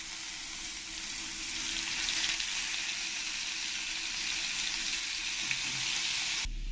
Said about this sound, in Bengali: মাছগুলো ফ্রাই করে নেব।